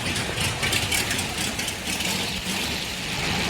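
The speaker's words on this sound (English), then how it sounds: "So something's not sounding right inside of this engine." A classic Corvette engine, freshly installed, runs with a misfire and a chattery sound, a steady rough idle droning continuously at close range.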